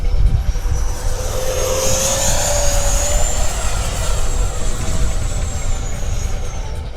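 An RC model F-16 jet with an 80mm E-Flite electric ducted fan flies past outdoors, a loud continuous whine that rises and sweeps in pitch over steady wind rumble.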